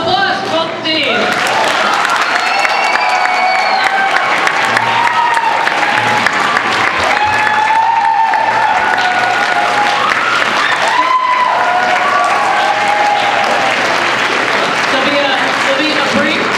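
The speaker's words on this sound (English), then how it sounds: "So applause for both teams." A middle school debate tournament audience claps for both teams, dense sustained applause filling the room throughout, loud and close, with scattered voices and murmurs mixed in.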